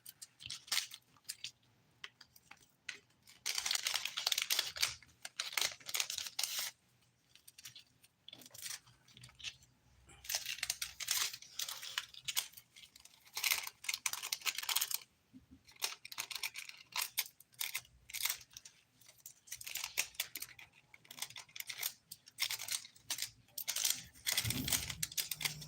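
Small scissors snip nail transfer foil into pieces, giving quiet, crisp cutting clicks and rustles in irregular bursts with no talking.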